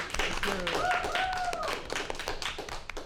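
A live-show audience claps in a quick burst of several sharp hand claps, fairly close, while a voice briefly sings or calls out over the clapping.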